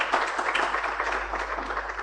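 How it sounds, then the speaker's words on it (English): Audience applause at a big tech accountability summit, dense steady clapping from a large crowd filling the room, even and sustained without a break. "Please clap for Luke"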